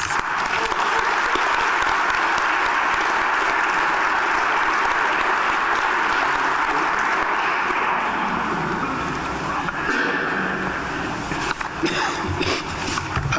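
Sustained, loud applause from a seated audience fills an induction ceremony hall for class speakers, steady clapping throughout that thins slightly toward the end.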